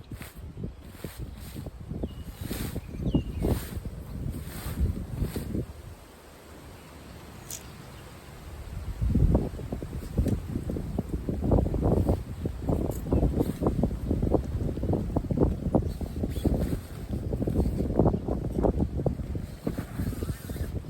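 Strong wind blowing against a tent: loud, rumbling gusts buffet the microphone in surges, drop briefly to a quieter lull, then return with flapping bursts, and no one speaks.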